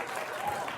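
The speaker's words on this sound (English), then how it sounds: "They're applauding." Studio audience applause, likely a canned sound effect, fills the moment as a steady wash of clapping under a faint murmur of voices.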